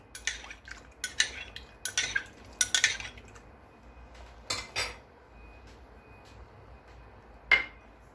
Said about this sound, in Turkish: hem karıştırıp hem de yavaş yavaş bu hazırladığımı katıyorum